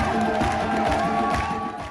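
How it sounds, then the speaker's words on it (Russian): Theatre audience giving an actress an ovation at her curtain call, a dense steady wash of applause and cheering filling the hall for a couple of seconds with a faint tonal music layer beneath. "На поклоне актриса срывает овации."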